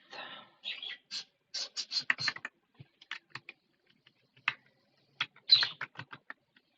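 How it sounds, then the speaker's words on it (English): Pet birds in a home room chirping in short, high bursts, scattered and uneven with gaps of quiet between, fairly close and alone. "Are my birds too loud for you guys?"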